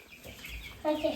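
A chicken clucking close by in a couple of short, abrupt bursts near the end, over faint background noise.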